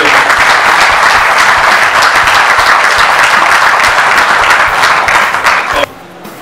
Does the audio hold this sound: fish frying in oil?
no